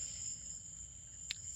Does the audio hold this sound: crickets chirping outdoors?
yes